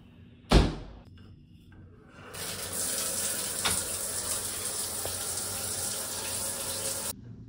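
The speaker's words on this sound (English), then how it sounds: "Do you mind if I take a shower?" Water running steadily from a shower in a college dorm bathroom, starting after a sharp door-like knock and holding a constant hiss until it cuts off abruptly near the end.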